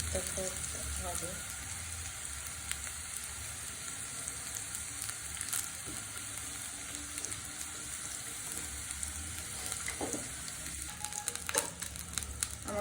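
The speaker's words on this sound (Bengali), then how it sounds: "আমি আর একটু ভেজে নেব। কিছু কিছু রসুন এখনো হয়নি" Garlic frying in a pan for a Bengali garlic mash recipe, a continuous close sizzle with scattered crackles and stirring scrapes, steady throughout with no talk.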